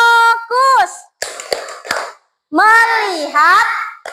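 In an Indonesian classroom, children chant together in a rhythmic focus-clap routine, their voices rising and falling, punctuated by a few sharp, close claps in the gaps.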